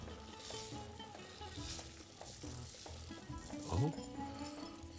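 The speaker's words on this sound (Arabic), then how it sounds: "وادي الرز يتطبخ" Rice with liver and carrots cooking in a pan, giving a quiet, steady sizzle with faint clinks and stirring noises, heard alone without talk.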